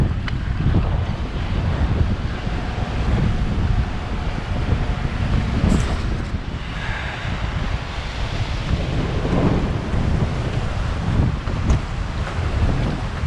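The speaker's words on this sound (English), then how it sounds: "It's quite windy." Strong wind buffets the microphone in continuous low, rumbling gusts at Humber Bridge Country Park, Yorkshire, with a faint surf-like roar in the background.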